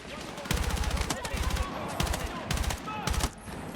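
Rapid bursts of automatic gunfire in the video game Battlefield 6, several short, loud volleys separated by brief pauses, with game ambience between them.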